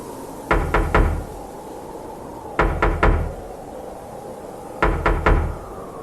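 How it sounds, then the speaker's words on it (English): Three groups of knocks, each a quick run of three sharp raps on a hard, hollow surface like a door or a vehicle's body, spaced evenly and heard close and alone against a faint background hiss. "The tape ended with 3 knocks."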